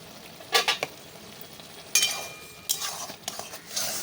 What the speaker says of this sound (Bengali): পরিমাণ মতন জল দিয়ে একটু নেড়ে চেড়ে এটাকে ঢাকা দিয়ে রেখে দেবো